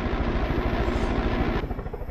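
Helicopter in the video game Far Cry 5 flying close by, a loud steady rotor thump with engine whine filling the whole stretch, easing slightly near the end.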